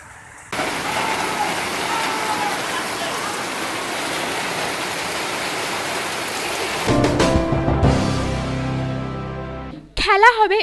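Torrential rain pours down at a local market, a steady dense roar that holds for several seconds before shifting into rougher, more uneven noise, with a brief burst of other sound at the very end.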